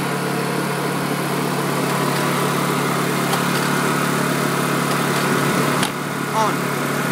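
A Honda EU2000i portable generator runs with a steady, droning hum at close range, and a person talks over the sound throughout.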